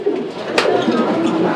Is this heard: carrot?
no